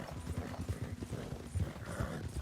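Horse hooves galloping during a Red Dead Redemption horse race between a White Arabian and a Reverse Dapple Roan Nokota: steady, rapid, close thudding hoofbeats in a continuous rhythm over a dense rumbling background.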